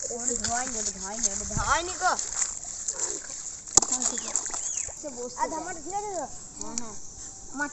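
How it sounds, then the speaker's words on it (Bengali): Metal tools caked with soil are rinsed in a village yard, with water splashing and sloshing in irregular bursts under steady close-up talk. "আমরা এখন এই সব যন্ত্রপাতিগুলো ধুচ্ছি"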